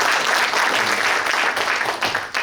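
Audience applause fills a hall at a Suncheon civic event with a provincial council member, steady and dense for the whole stretch, with no speech on top.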